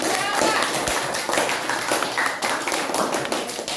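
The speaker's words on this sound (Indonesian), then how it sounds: "tepuk tangan untuk kelompok Jawa" Audience in a class presentation session clapping for a student group that just finished presenting; dense, steady clapping fills the whole stretch, close and fairly loud, with faint voices mixed in.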